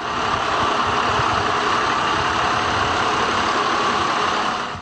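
A tractor engine runs in a steady, dense rumble, loud and close, holding an even drone throughout with no pauses.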